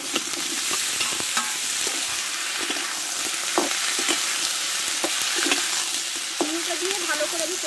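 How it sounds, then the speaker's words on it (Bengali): Chopped chal kumro (ash gourd) with tomato frying in a pan, a steady broadband sizzle with intermittent scraping clicks of a spatula stirring, loud and close, no talking. "দেখো ছয় থেকে সাত মিনিট মতো আমি ভালো করে কুমড়োটা কষে নিয়েছি"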